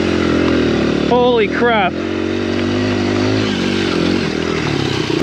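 A Honda XR100R dirt bike engine drones loud and continuous while riding through snow, with a rider's brief excited exclamation cutting in over the steady engine noise.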